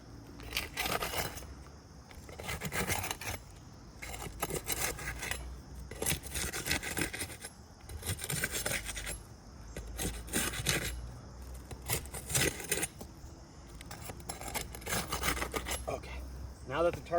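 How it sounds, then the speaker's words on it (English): Roof shingle tar strips being broken loose for a repair, heard as repeated rasping, scraping pulls in irregular bursts, close and fairly loud, with no talking. "the first thing that I need to do is I need to break the tar strips"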